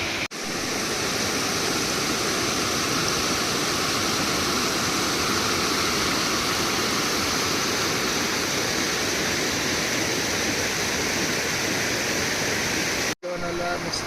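Steady, loud rushing water fills the whole stretch, a constant full roar of a forest stream at Bhimashankar flowing close by, cutting off abruptly near the end.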